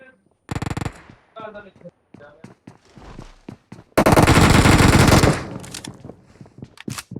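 Video game gunfire rattles in short automatic bursts, then one long sustained volley of rapid shots, loud and close, with players talking between bursts.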